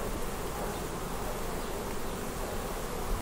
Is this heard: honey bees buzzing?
yes